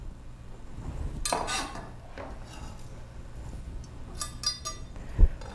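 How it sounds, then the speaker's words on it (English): Chopped hazelnuts, scallions and lemon rind are stirred in a bowl, with a utensil scraping and clinking against the dish in short, irregular bursts. "Put everything in and just kind of mix it all up."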